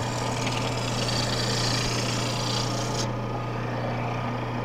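A wood lathe spins a baluster under a chisel, its motor holding a steady droning hum while a rough cutting hiss runs loudly, then drops away partway through as the hum carries on.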